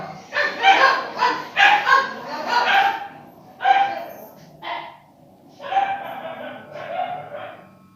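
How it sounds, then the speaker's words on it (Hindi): Dogs barking outside, heard as a string of loud, close yips and barks in uneven bursts with short pauses between them. "बाहर कुछ कुत्ते भौंक रहे थे"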